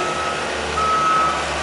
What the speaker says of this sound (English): the skid steer is your primary material